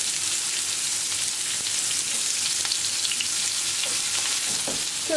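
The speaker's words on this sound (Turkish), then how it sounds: "Biberleri de ters düzelecek şekilde kızartacağım." Peppers sizzle and crackle as they fry in oil in a pan, a constant hissing texture with occasional pops and light stirring sounds, close and steady with no talking.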